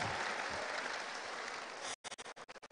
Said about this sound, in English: I think we can give them a round of applause.